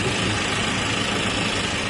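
A 2024 KIA Bongo III with a 2.5-litre gas-fuelled engine idles steadily, giving a continuous, even rumble close by with no voices.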